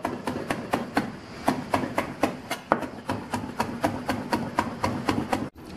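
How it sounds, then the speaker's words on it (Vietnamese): A knife chops garlic on a cutting board in quick, steady taps, about three per second, close and crisp. "mình dí con củ tỏi cái bây giờ mình thái như thế này"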